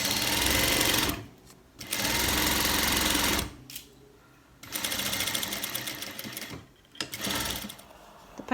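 A sewing machine stitches a cargo pant leg holder seam in several close bursts, each a rapid mechanical whir broken by short pauses.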